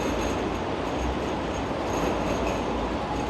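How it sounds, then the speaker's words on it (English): A Sydney light rail train passes close by in a steady, loud rumble of wheels on rails, with no voices. "We've got another light rail train coming up, so they are really frequent."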